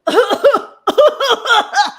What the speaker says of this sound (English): we're in this house where you just hear coughing all day